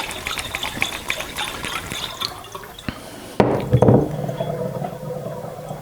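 A gas charger feeds into a reconditioned Aerators Type B soda siphon: metallic clinks and liquid trickling give way midway to a sudden louder rushing hiss and bubbling gush, close by with no speech.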